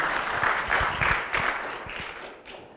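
Applause from an audience, a burst of many hands clapping that gradually fades out over a few seconds.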